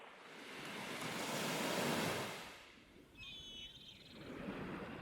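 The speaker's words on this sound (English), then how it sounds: "I'm just steps away from the ocean" Ocean surf breaking along the Baja coast, a broad wash that swells and recedes, with wind buffeting the microphone and a brief bird call over the retreating water; no talk.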